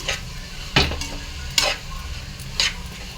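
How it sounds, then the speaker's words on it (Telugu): Onion and brinjal pieces fry in a pan, a soft steady sizzle broken by three or four sharp scraping stirs spaced about a second apart. "ఉల్లిపాయ ముక్కలు, వంకాయ ముక్కలు వేసేసుకోవాలి."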